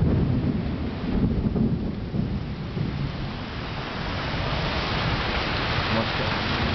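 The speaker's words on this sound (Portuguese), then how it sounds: "Raio de trovões na Vila Regina, Itaquera, São Paulo." Thunder rumbles through a heavy thunderstorm with steady rain over Vila Regina, Itaquera, São Paulo, a loud, continuous broadband roar of downpour with low rolling swells rather than one sharp crack.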